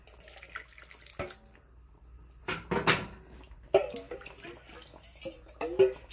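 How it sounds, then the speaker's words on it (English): Water runs from a tap into a pot of parboiled rice for a Caribbean peleau, splashing in short uneven bursts amid clattering pot sounds, with a person speaking quietly between them. "put some water and get out the rest."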